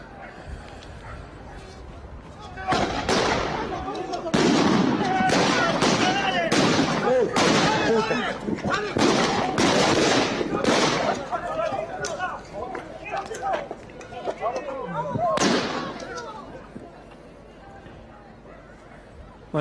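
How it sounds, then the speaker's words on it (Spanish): Gunshots fired by police during a crackdown on a state-workers' union protest in Neuquén, Argentina, heard as a ragged series of loud sharp cracks over several seconds amid crowd noise and shouting. "Así la gente escucha los balazos."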